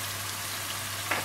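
Turmeric, red chili powder, salt and deggi mirch spices frying in hot oil for Nargisi kofta masala, a steady soft sizzle with a brief louder crackle near the end.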